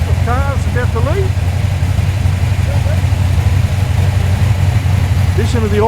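Performance street cars idling in a line leaving a car show, including a Mazda RX-3, Ford XR6 and Valiant XY GT, a loud steady low engine rumble with brief chirps and voices over it.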